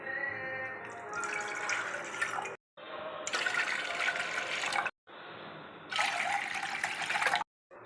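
Water is poured into a kadai pan in three separate glassfuls with short silent gaps between, a splashing, filling sound close up with no voices.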